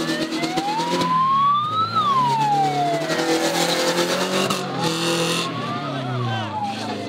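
An ambulance siren wails on a busy road during a Libyan wedding procession. The pitch rises, then sweeps down and back, over a steady traffic roar while people talk and shout nearby.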